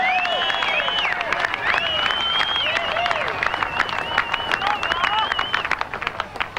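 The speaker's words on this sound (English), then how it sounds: "please put a big round of applause together for this man" Applause and cheering from a V8 Supercars crowd at Queensland Raceway greeting a first championship round winner, dense clapping throughout with a voice speaking over it and scattered sharp claps standing out toward the end.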